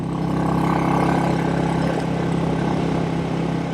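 A 1959 Indian Fire Arrow motorcycle, built by Royal Enfield, runs steadily while being ridden in high gear, its engine a continuous loud, even drone with a low throbbing pulse.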